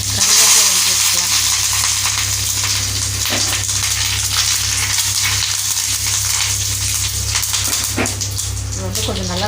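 Curry leaves fry in hot oil with urad dal, cumin and dried red chillies for keerai kadaiyal, sizzling and crackling steadily, with occasional clinks of a utensil against the pan.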